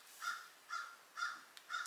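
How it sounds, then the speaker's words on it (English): A crow caws four times in a steady, evenly spaced series, each call harsh and fairly close, with a brief click between the last two calls and no talking. "The crow needs attention."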